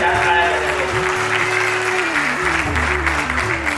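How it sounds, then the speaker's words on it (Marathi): An audience claps together at a felicitation ceremony, a loud burst of applause running under sustained musical tones. "एकदा चार टाळ्या"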